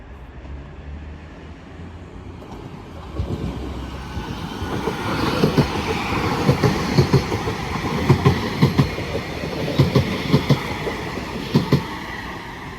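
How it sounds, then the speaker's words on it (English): A Class 331 electric train bound for Blackpool moves at Wigan North Western station, with a rising rumble and rhythmic clickety-clack of wheels over rail joints growing louder and closer. "we have a 331 going to Blackpool"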